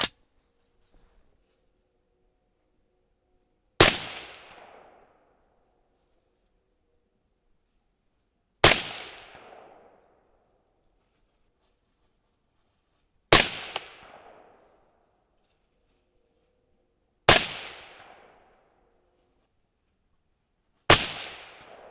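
A .22-250 rifle firing Alliant Reloder TS handloads at a shooting range, five sharp loud reports spaced about four to five seconds apart, each with a short decaying echo and near silence between them.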